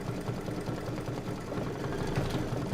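A sewing machine runs steadily through a seam on a quilt block, a continuous low mechanical hum and rapid stitching chatter held for a few seconds without pause.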